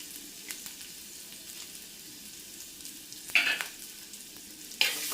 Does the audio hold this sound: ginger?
yes